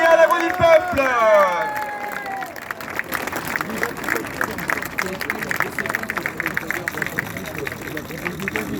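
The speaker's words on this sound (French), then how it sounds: "un tonnerre d'applaudissements à Jean-Frédéric Poisson" A crowd at an anti-war street rally in Paris applauds Jean-Frédéric Poisson, president of VIA, with dense clapping and cheering that swells after an amplified voice and keeps going steadily.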